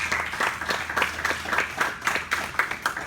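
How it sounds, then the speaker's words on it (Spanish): Congregation at a Spanish-language Bible study clapping together in a steady, fairly quick rhythm, a moderate-sized group heard at middle distance with a low hum underneath and no talk. "Dar un fuerte aplauso al Señor."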